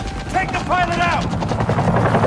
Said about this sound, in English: This is the police! Land your helicopter now!